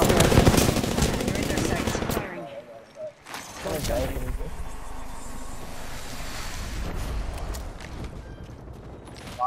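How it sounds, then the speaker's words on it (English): Automatic gunfire in the battle royale shooter Apex Legends, rapid dense bursts loud and close at first, then a steady mix of shooting and game noise with a player's voice over it. "Man shooting on my bunker."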